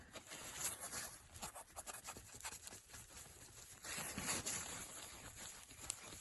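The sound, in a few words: rubbing residue off bearing cap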